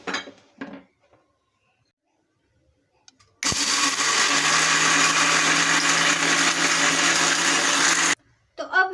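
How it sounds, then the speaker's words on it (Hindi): An electric blender grinds roasted chickpeas into powder, running loud and steady for about five seconds after a few clinks of the jar being set in place, then stopping abruptly. "तो अब हम चने को ब्लेंड करके इसको पाउडर फॉर्म में चेंज कर लेंगे।"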